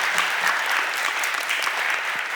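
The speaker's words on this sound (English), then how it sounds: "We can clap for that." A council committee budget hearing fills with steady applause, a dense wash of clapping hands that holds at an even level throughout with no pauses.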